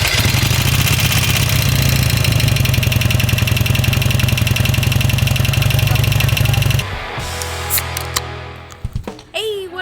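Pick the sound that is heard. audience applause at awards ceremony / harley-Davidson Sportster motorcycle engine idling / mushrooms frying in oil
harley-Davidson Sportster motorcycle engine idling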